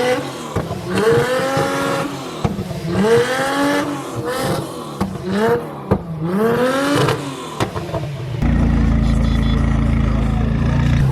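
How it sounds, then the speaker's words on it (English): A McLaren supercar rolls into a nighttime car meet, its engine note rising and falling in several revving pulls, then settling into a steady low rumble as it arrives nearby. "Yet another McLaren pulling in right now."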